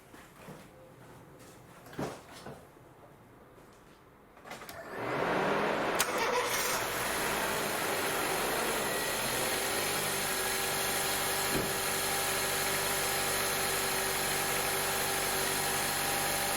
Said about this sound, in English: So now I'm gonna start the car, make sure it's running well